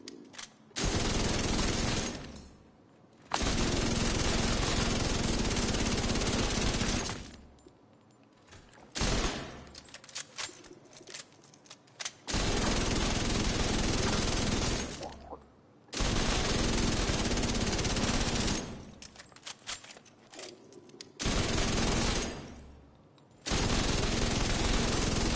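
Rapid automatic weapon fire in The Division 2 comes in long, dense bursts of several seconds each, separated by short pauses, loud and close with no talk over it.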